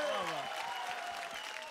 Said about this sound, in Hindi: जरा जोरदार ताली होनी चाहिए उनके लिए।